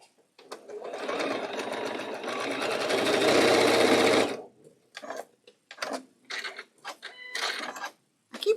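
A sewing machine pieces a quilt block in one long, steady whirring run of about four seconds, then gives several short stitching bursts separated by pauses.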